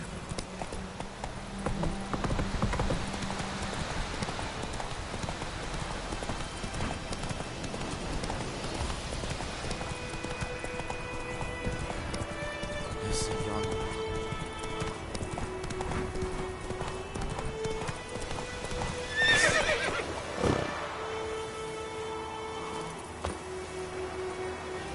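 Horse hooves clip-clop steadily in The Witcher 3, with a brief neigh and game music tones layered over the hoofbeats; a louder burst comes near the end.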